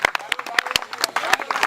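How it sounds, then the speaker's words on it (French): Audience clapping at a Guadeloupean lewoz drum gathering, Lakou Trankil, sharp irregular claps scattered across the moment rather than a full ovation, with a voice talking over and among them. "applaudis au moment, applaudis au moment"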